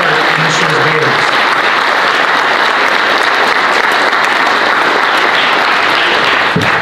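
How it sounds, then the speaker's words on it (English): Loud, sustained applause for students at an oratorical competition, a thick unbroken roar of many hands clapping close by for nearly seven seconds, with a few voices briefly audible under it. "a round of applause for all the students who had the courage to take part in this year's Baileys"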